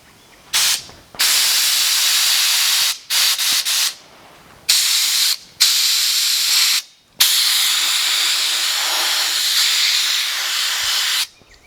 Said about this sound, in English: Got my gun set up.